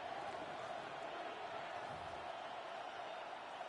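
Crowd roar fills a stadium during a video game American football match between the Lions and Seahawks, a faint, steady, distant wash of noise with no clear cheers or voices.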